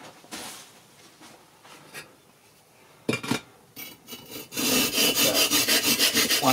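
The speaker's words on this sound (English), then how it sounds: "So now we've just got to cut those bits. Get my handy dandy hacksaw." Hacksaw cutting kiln brick, starting with a few scattered scrapes and taps, then settling into a loud, close run of rhythmic rasping back-and-forth strokes.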